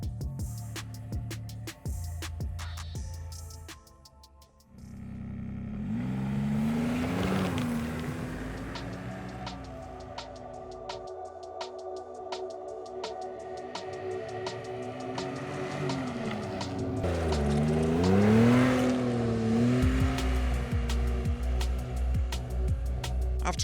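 Two snowmobiles, a Ski-Doo Expedition and a near-identical Chinese copy, are ridden, their engines droning with rising and falling pitch sweeps as throttle changes, a steady loud motor sound throughout with no talking.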